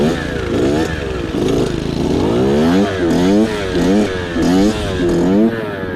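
Suzuki RM 65 mini dirt bike engine revving hard in repeated rising bursts, loud and close, each surge climbing in pitch before dropping back.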